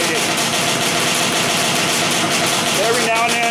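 A Yamaha Banshee engine runs through a heat cycle, idling with a steady, loud rattling drone that swells as the throttle is blipped near the end, with a voice talking over it.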